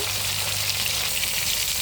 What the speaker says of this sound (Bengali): এখন আমি এই মাছটা ভালো করে ভেজে নেব।